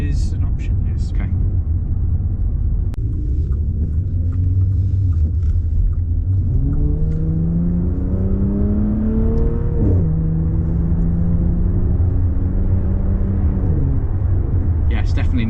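A Bentley Batur coachbuilt supercar with a louder optional exhaust drones steadily from inside the cabin while driving, then its engine climbs in rising rev sweeps as it accelerates, under occasional talk.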